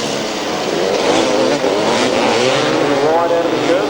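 A pack of 250cc grasstrack racing motorcycles roars away at the start of a 1997 race, a loud, dense, continuous engine howl that rises and holds steady.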